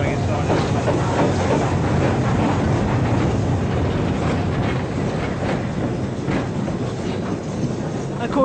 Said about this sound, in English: we're overtaking actually this little branch line train on the main line